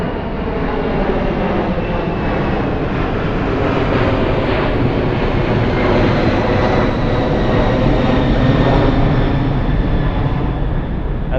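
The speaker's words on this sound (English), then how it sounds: "check out this plane flying so low" A low-flying airplane passes overhead in a city neighborhood, a loud, steady broadband engine roar that fills the whole stretch with no talk over it.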